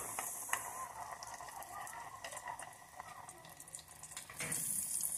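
Breaded chicken wings seasoned with calabrian pepper fry in a small pan of very hot oil, giving a steady, close crackling sizzle throughout that swells louder near the end.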